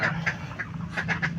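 Ducks and farm chickens at feeding time, a flock quacking in repeated bursts at close range over a steady low background hum.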